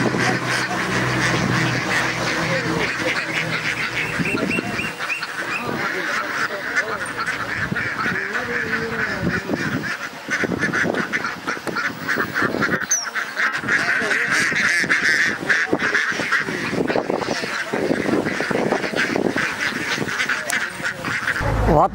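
Dense flock of ducks on a duck farm, quacking loudly and continuously at close range, with a voice talking over them at times.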